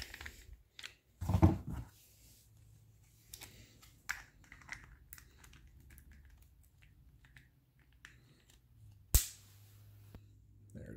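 Olight PL Mini 2 Valkyrie weapon light clicking and locking onto a Glock 19 pistol, giving a few small plastic and metal clicks and a louder sharp snap near the end, with handling rustle and brief speech in between.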